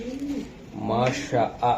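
A racing pigeon coos nearby in soft, throaty rolling calls, repeated a few times, with someone talking over it.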